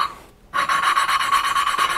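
A valve grinding tool laps a motorcycle valve into its seat on an XR250 cylinder head, making a steady gritty rasping scrape after a brief pause, close and fairly loud.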